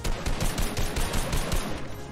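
Rapid bursts of gunfire in the video game Fortnite, a steady run of close, loud shots spread across the whole stretch with no pause.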